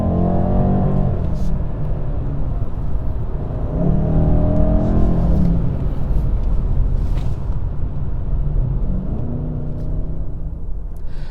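BMW M850i coupe with an 8-speed gearbox pulling away, its engine rumbling and rising in pitch through steady, loud acceleration with gear-change dips along the way.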